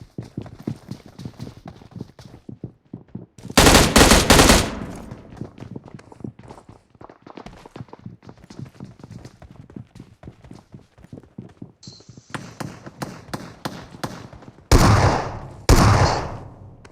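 Video game gunfire, including a shotgun, comes in loud, dense bursts. They stand out over steady clicking footsteps in the game.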